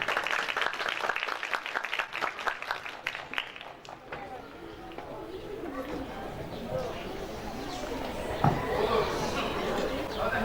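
Scattered clapping in the first few seconds gives way to crowd murmur and voices, with chatter filling the rest, at a primary school graduation ceremony.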